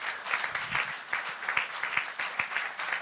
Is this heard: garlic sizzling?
no